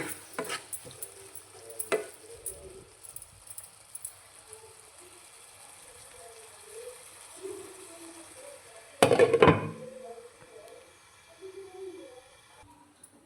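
Curry for egg and drumstick being stirred in a pan after salt goes in, scattered scraping and clinks over a soft sizzle, with one louder clattering stir near the end.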